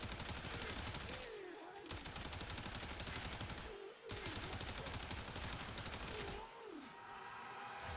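Rapid automatic rifle fire from the Soma Incarnon in the shooter game Warframe, a dense continuous stream of shots broken by two brief pauses, loud and close with no talk.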